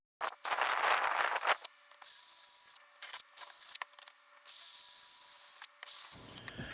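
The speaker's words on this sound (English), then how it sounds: "I'll take my little cylinder sander pad" A small cylinder sanding pad on a power tool scours the inside of a wooden piece in a woodworking shop, running in several short, loud bursts of high whirring hiss with a thin whine, separated by brief pauses.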